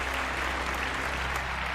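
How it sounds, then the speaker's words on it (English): Applause from a crowd, a dense, steady wash of clapping at constant loudness throughout the brief moment, with no voices standing out. "A round of applause for Michael."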